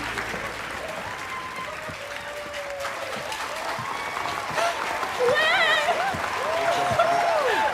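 An audience applauds steadily after a Christmas song performance at a country homecoming show, the clapping dense and continuous, with brief whoops and tonal voices rising over it toward the end.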